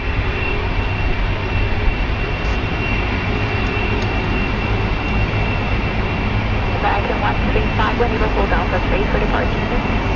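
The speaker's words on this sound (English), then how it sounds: "Shepherd giving us information on that 380 that's taxiing." An Airbus A380 taxis at London Heathrow, heard as a steady, distant jet engine roar that holds level throughout with a constant broadband whine.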